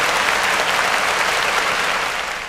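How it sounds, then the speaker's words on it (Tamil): Audience applause at a Tamil New Year special debate event, a full, steady burst of clapping for about two seconds that fades slightly at the end. "கைத்தட்டல் நீங்கள் கொடுக்கலாம்"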